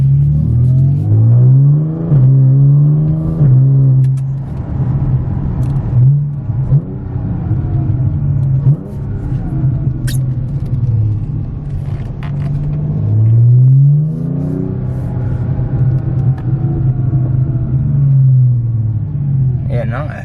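A loud Audi S4 (B8/B8.5) exhaust with new downpipes rumbles and drones close by, rising in pitch as it revs and accelerates, then settling into a steady low cruise.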